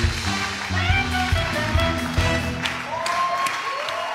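Studio audience applause on the Çarkıfelek game show, clapping blended with tonal music or sound effects, a busy continuous wash at moderate volume.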